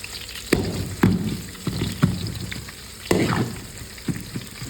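Capsicum frying in oil, a close crackling sizzle broken by a series of sharp stirring scrapes about once a second, with no talking.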